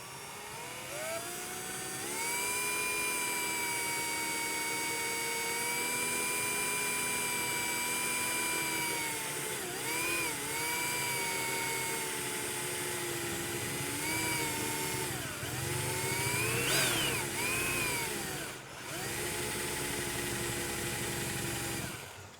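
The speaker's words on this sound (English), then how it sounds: "So let's drill it." Power drill boring a hole through a caravan wall for a door latch, a loud continuous whining motor running steadily for about twenty seconds with slight pitch dips as the bit bites, no talking.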